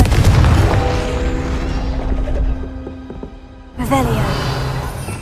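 A Confringo spell explosion in the video game Hogwarts Legacy bursts with a loud boom, followed by a fading ringing tone and a second sharp impact and crackle a few seconds later.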